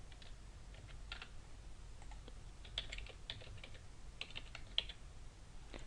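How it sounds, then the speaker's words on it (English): Fingers tap steadily on a computer keyboard while contact details go into an online form, a quiet irregular run of clicks with occasional louder keystrokes over a faint background hum and no voices. "Then type your contact information."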